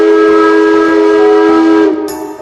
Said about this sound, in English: And listen, choo-choo!